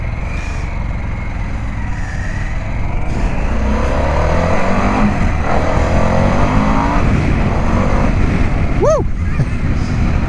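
Harley-Davidson Pan America motorcycle accelerating hard in sport mode, a steady rising engine roar close by with shifting pitch sweeps, and a rider shouting excitedly over it.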